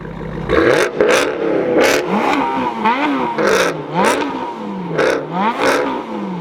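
A Ferrari F430 accelerates and revs hard, its engine note rising and falling in repeated sweeps, loud and close, alongside a competing American V8 car.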